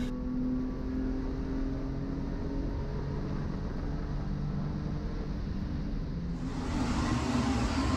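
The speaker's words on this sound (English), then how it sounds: "So excuse my heater going on in the background" A space heater runs steadily in a room, a continuous broadband whir that holds level for several seconds, then grows slightly louder and brighter near the end, with no one speaking.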